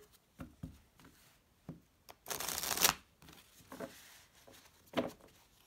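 Tarot cards being shuffled in a few quick riffling bursts, with one longer, louder cascade in the middle and soft taps between.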